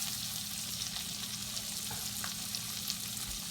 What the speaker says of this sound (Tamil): இந்த வெண்ணெயில நல்லா வதக்கி எடுத்துப்போம்.